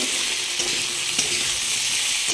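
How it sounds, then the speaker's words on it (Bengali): Steady, close sizzling of garlic and potatoes frying in hot oil, a continuous crackling hiss with faint stirring, no voices. "আলুর সাথে এগুলো একটু ভাজা ভাজা হয়ে যাবে"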